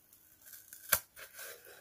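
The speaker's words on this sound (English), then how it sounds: "Use the smaller scissors for the intricate areas, like around the corners" Small scissors snipping craft material while making a fairy house decoration, a single sharp close cut standing out amid faint rustling and handling noises.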